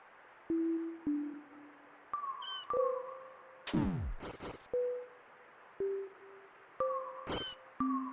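Cats in Deltarune Chapter 4 let out a string of short, stylized electronic meows, one after another in an uneven rhythm, with a quick sweeping squeal partway through and no talking.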